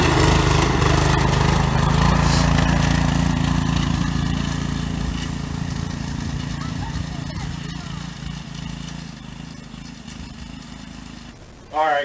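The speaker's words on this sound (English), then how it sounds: "We got the four-wheeler up and running, got it put together." A Polaris four-wheeler fitted with a Predator 212 engine runs steadily nearby, a continuous loud motor drone that gradually fades slightly over the stretch, with a voice heard near the end.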